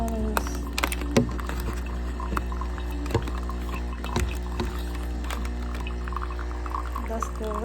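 A Nespresso Vertuo Plus coffee maker runs its rinse cycle, a steady low pump hum beneath water pouring and splashing into a container, punctuated by occasional clicks and knocks.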